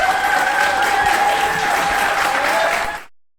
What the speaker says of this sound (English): Let's give Brian another round of applause